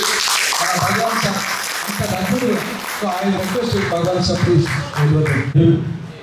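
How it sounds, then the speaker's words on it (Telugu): Audience clapping at a Telangana Bahujan party gathering, a dense, steady patter of many hands lasting several seconds and swelling near the end, with a voice talking over it. "ఒకసారి అందరూ బీ క్లాప్స్ కొట్టండి"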